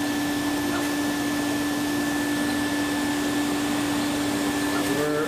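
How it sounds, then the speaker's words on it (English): Fume extraction vacuum on a laser cutter cutting acrylic, pulling fumes through a filter: a constant, loud broadband whoosh with a steady tonal hum running unchanged throughout. "there's a fume extraction system running with a vacuum that's pulling those fumes through a"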